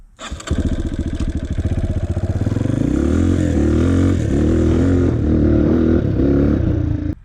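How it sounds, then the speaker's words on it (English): Dirt bike engine revving hard into high RPM, a loud, close, continuous buzzing roar that climbs in pitch, then steps through several quick gear shifts with brief dips between rising revs. "Now when I want to be more aggressive, I get up in the upper RPM, but then you got to shift it quickly."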